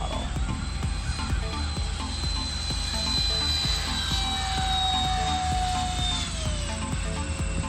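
RC model FT Viggen jet flying a high-speed pass at full throttle, a steady loud whine with a rising and falling tone as it passes, heard alone throughout.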